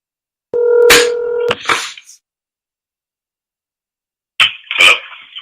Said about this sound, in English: So let's go ahead and give old James a call, shall we?